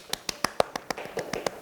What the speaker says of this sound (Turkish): Vallahi alkışlıyoruz arkadaşı.